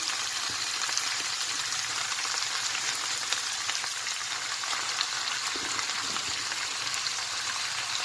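Steady, dense sizzling of chopped beet leaves frying in hot olive oil, a continuous crackling hiss that stays even throughout with no voices.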